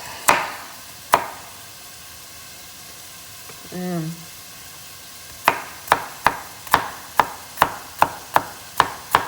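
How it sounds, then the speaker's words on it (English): Sharp knife chops carrots on a cutting board: two isolated strikes, a pause with a faint squeak, then a steady run of about ten evenly spaced chops, close and crisp. "Chop, chop, chop, chop, chop."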